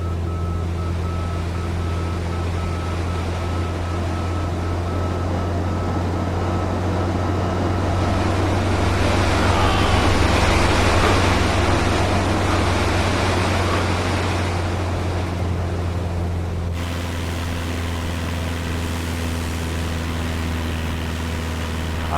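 In a Microsoft Flight Simulator 2020 game, steady roar of rushing wind over a droning small-plane propeller engine, swelling louder toward the middle as speed builds and then easing back to a constant hum.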